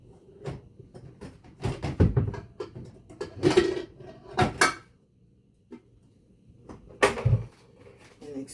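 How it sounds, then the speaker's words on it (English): A metal baking pan pulled from a kitchen cupboard, with a string of sharp clanks and clatters in bursts separated by short pauses, loud and close. "excuse the noise, but I had to get my baking pan"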